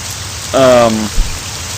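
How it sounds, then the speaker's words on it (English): Drizzling rain in a video game forest makes a steady soft hiss throughout. A brief, tonal, voice-like sound rises over it midway, followed by a small thump. "as you can hear, the drizzling rain right now"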